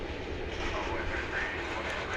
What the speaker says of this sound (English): We've got a plane that's taking off,